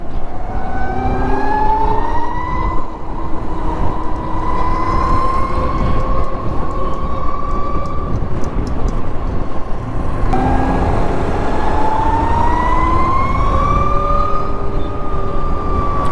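Raptee T30 electric motorcycle accelerating hard in power mode through city traffic, a loud, rising electric motor whine that climbs in pitch, dips briefly, then climbs again over steady road and wind noise.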